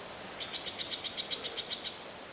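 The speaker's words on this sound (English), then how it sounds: "Birds are talking real close." Birds call close by in a forest beside a large boulder: a quick, even series of about ten thin, high chirps, each note sharp and clear against a quiet, steady background hush.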